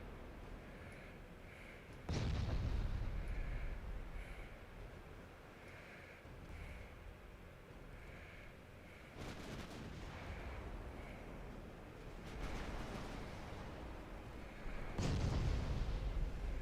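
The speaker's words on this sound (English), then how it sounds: "Go fire your main guns at him." Heavy battleship main guns firing in the naval game Ultimate Admiral Dreadnoughts, with three deep booming salvos at intervals over a continuous roar of sea and battle noise.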